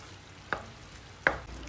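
Ground meat with green peas, pineapple tidbits, potatoes and carrots is stirred in a pan, giving two short, distinct scrapes about a second apart over a faint, steady sizzle.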